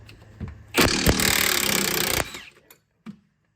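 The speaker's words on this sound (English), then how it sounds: "We're gonna go ahead and throw the impact on that side." An impact wrench works a suspension bolt on a Jeep WJ Quadra-Drive during a suspension rebuild and lift kit install. It gives one loud, close, rattling hammering burst of about a second and a half, framed by a few clanks.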